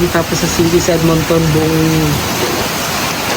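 Heavy summer rain pours over Edmonton with a steady, broad hiss, first under someone speaking and then continuing on its own.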